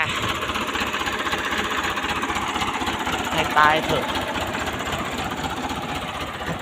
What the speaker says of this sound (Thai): นี่ครับผม รถไถติดอยู่ยั่วจ้า